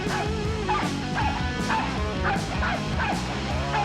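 A dog gives a rapid run of yipping barks mixed with whimpers, fairly loud and close, repeating in quick bursts over a dense background.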